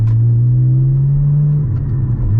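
Manual Porsche 718 Cayman GT4 heard from inside the cabin while driving, a loud, steady engine drone that briefly shifts pitch as the revs change, with no talking.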